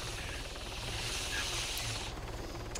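Medic helicopter flying in the video game Arma 3, a steady close rotor thrum with a broad hissing whine over it, continuous throughout with no talk.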